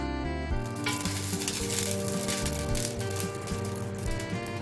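Paneer fries gently in a thin brushing of olive oil inside Amway cookware, giving a steady close sizzle that starts abruptly and holds without speech.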